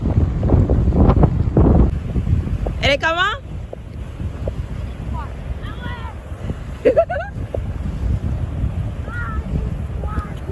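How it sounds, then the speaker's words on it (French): Wind buffets the microphone steadily by the sea in Gaspésie, Québec, with people talking at times and a few high calls in the distance. "Je sais pas si vous entendez le vent."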